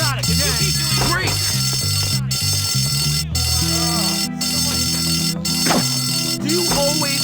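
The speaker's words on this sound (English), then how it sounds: "Another alarm?" A fire alarm rings in the video game Bully, a steady electronic tone that runs under busy music and recurring voices for the whole stretch.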